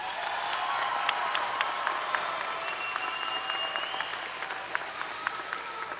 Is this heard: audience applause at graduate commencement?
yes